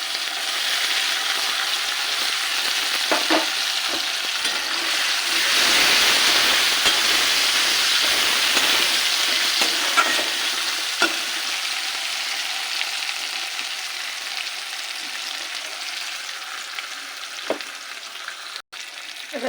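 A paste of onion, ginger, green chili, garlic and tomato sizzles loudly in a hot pan, a strong steady hiss that swells early then settles into a quieter, even fry with a few clinks.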